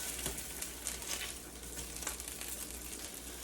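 Turkey burgers sizzle and crackle in a pan, a steady, soft frying hiss close by with faint pops and no voices.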